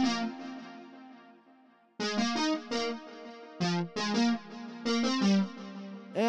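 A square-wave synth lead with pulse width modulation and a bit-crushed edge plays a short melodic phrase alone, one sustained note and then a run of choppy rhythmic notes.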